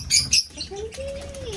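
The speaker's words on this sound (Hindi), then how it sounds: "ये कौन सा कबूतर उड़ने गया है?" A short burst of pigeon wing flaps flutters up close, followed by a thin, sustained whistling tone over faint background noise.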